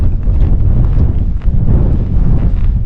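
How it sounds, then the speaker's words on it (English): Strong wind batters a microphone high on a mountain near Coniston at about 762 metres, a loud, continuous low roar and buffeting with brief gusty dips and no voices. "getting battered by the wind"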